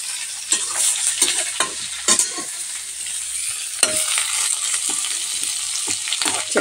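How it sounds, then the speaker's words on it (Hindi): Potato, pointed gourd and cauliflower fry in a pan with a continuous bright sizzle, broken by repeated scraping strokes of a spoon stirring the vegetables, close and fairly loud. "इसको अच्छे से तलाने देते हैं।"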